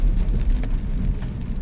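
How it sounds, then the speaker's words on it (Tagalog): Steady, dense rain pours down during a dark drive in a constant broadband roar, loud and close, with no voices present. "ang ulan ay sobrang malakas na naman"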